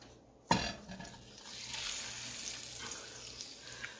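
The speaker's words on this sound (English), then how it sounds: "we're going to sear this on all sides till it's, you know, nice and brown" A pork butt roast hits a hot pan with a sharp thump, then sears with a steady, fairly quiet sizzle and crackle that continues under occasional small pops.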